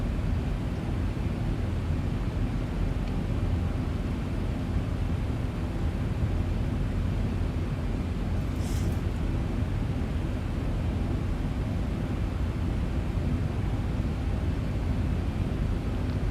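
A continuous aircraft engine roar fills the cockpit in the X-Plane 12 flight simulator, steady and unbroken, with a brief faint high click partway through.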